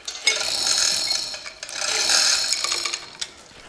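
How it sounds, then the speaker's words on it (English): A ratchet handle winds in two long, loud, rapid clicking runs to lower the head of a 1929 McCormick Deering engine, with a short pause between them. "and wind the handle."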